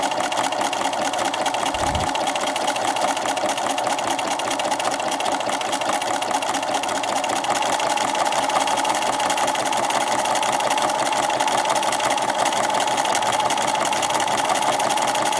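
A sewing machine stitches fabric for a bookmark with a fast, even mechanical chatter that runs close and continuous throughout, with no voices over it.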